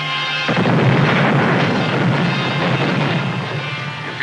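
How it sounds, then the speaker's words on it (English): A radio drama sound effect of bombs bursting over a fort, a loud continuous rumbling barrage of explosions that swells in and holds steady throughout, with no speech. "When our bombs begin bursting over Fort McHenry."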